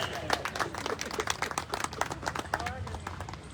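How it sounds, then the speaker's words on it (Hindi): A crowd claps in dense, steady applause at a martyrs' memorial event, continuing throughout, with a voice talking over it. "आप उनके सम्मान में जोरदार तालियां बजाइए।"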